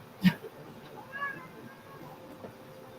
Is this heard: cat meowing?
yes